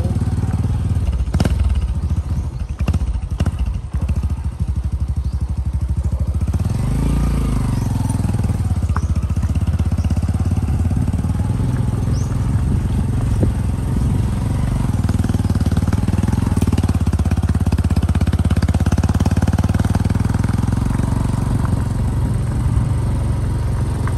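Steady motorcycle engine drone throughout, close and continuous while riding on Masbate island, with wind and road noise and a brief rattling clatter near the start.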